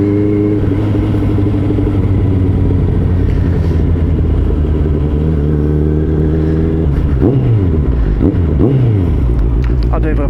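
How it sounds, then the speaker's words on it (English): A Honda CBR 650R fitted with a full-system Scorpion exhaust rumbles loud and close throughout, its engine tone holding steady before dropping and rising through quick gear changes near the end. "I do love the sound of this exhaust."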